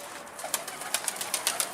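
Several pigeons kept by a bird keeper give soft, sharp flutters and wing flaps in a series of quick bursts, close by, with no one speaking.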